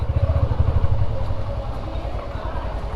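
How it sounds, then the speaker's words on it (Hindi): A motorcycle ridden over a rough, bumpy road gives a close, continuous engine rumble mixed with rattling clatter from the jolts, steady for the whole stretch. "देखो पूरे दिन मेरी बाइक ऐसे रोडों पे चलती है"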